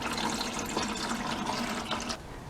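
Warm engine oil drains from a Volvo V petrol engine into a pan, a steady trickling, splashing pour heard close and moderately loud before it thins out near the end.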